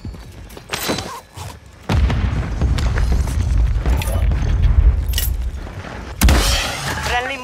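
A grenade blast in the battle royale game Call of Duty Warzone, a heavy low boom around two seconds in that rumbles on for several seconds, with a second sharp burst near the end amid game effects.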